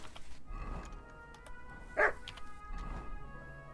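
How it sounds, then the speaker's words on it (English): A dog in the medieval video game Kingdom Come: Deliverance 2 gives one sharp, close bark midway through, set against quiet ambient game sound and soft background noise. "Что ты гавкаешь?"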